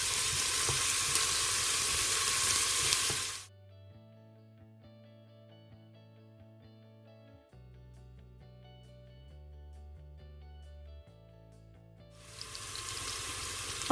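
Chopped onion sizzling in hot olive oil in a pot for Turkish-style bulgur: loud, close frying hiss at the start and again at the end, broken by a stretch of soft music.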